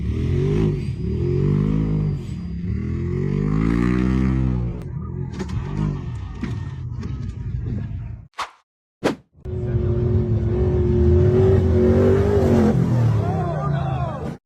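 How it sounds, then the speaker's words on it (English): A UTV spins continuous donuts on an open dirt field, its engine revving and surging in rising and falling sweeps, loud and close, cut briefly by sharp thumps partway through. "The UTV performed continuous spinning donuts across the open dirt field"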